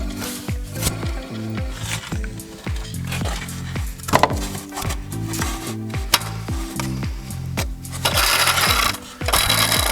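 Pulleys on a BMW E46 Touring engine, belt removed, spun by hand, giving a loud, close, repeated rubbing and grinding rasp with rhythmic scraping pulses and occasional clicks, with no talking.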